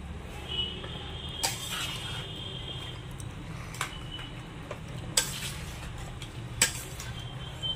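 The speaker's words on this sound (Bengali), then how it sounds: "এটা খুন্তি দিয়ে মাখিয়ে নি ভালো করে" A spatula mixes spiced chicken in a pan, making a soft continuous scraping and stirring texture punctuated by a few sharper clinks of metal, close and quiet, with no talk.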